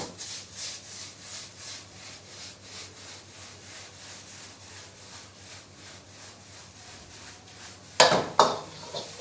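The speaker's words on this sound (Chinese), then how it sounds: "汤汁下锅后遇到高温会形成蒸汽" Soup poured into a hot wok of fried egg rice: a metal spatula scrapes and stirs rhythmically against the pan, then a sudden loud burst of sizzling steam erupts near the end.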